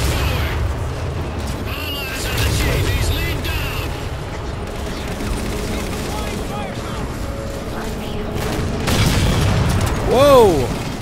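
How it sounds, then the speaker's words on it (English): Bombs explode during a co-op battle in the Halo 4 video game, with heavy booming blasts and rumbling mixed with gunfire bursts, and a rising whine near the end. "bombs are being dropped"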